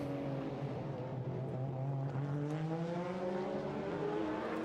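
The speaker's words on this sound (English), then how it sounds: "Now more Porsches, the Auto Orlando Sport car here, down to the chicane." Porsche GT race car of the Auto Orlando Sport team at a circuit qualifying session, its engine note rising steadily as it accelerates down toward a chicane, a loud continuous harmonic roar with climbing pitch.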